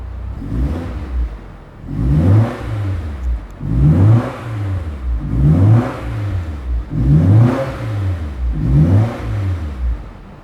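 A naturally aspirated Nissan Silvia S14 with an SR20DE engine revs repeatedly, about five loud rising throttle blips spaced a couple of seconds apart, close by and with no talking.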